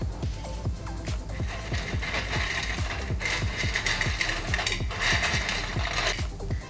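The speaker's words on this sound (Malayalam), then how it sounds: "സൗണ്ട് കേട്ടില്ലേ, നല്ല ക്രിസ്പി ആയിട്ട് തന്നെ നുറുക്കിട് വന്നിട്ടുണ്ട്." Crispy fried butter murukku handled at close range, giving a steady run of sharp, brittle cracks and clicks over a dense crackling bed, with no talk.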